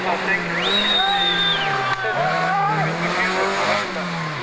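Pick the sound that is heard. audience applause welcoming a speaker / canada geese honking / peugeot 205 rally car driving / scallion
peugeot 205 rally car driving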